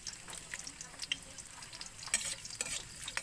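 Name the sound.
garlic frying in a pan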